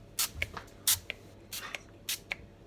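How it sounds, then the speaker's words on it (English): Oil is sprayed onto chicken dippers in short hissing bursts, four quick spritzes in a row, each followed by a small click of the nozzle, close and fairly quiet. "let's spray the first ones. Let's spray the first one."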